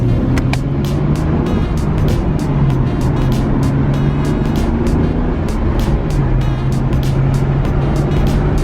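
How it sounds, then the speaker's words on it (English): A 25-year-old Nissan Skyline GTR R33 being driven in Japan, heard from inside as a steady low engine drone and road rumble, with a rapid regular ticking running over it throughout. "this is just driving a GTR, I guess, cannot get simply better than this."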